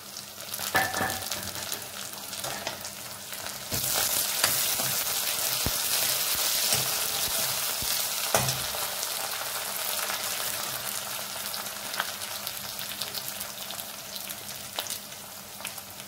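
Curry leaves dropped into onions already browned in hot oil for dal palak khichdi, giving a sudden loud sizzling burst that settles into steady, close frying crackle with a few stirring clinks.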